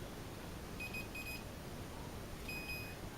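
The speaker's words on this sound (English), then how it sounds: "so the buzzer went off" A faint electronic oven timer beeps in two short bursts, pauses, then sounds again, over a steady low background hiss.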